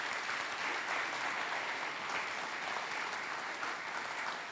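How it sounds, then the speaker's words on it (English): Steady audience applause for a guest speaker being introduced, a dense, even wash of many hands clapping that holds at a constant level throughout, with no talking. "please give a warm round of applause, Dr. William Farstehen"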